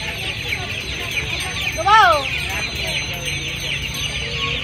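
Chickens at a poultry and pet market, among them young birds about two and a half months old, with one short clucking call standing out briefly over steady crowd chatter and background noise.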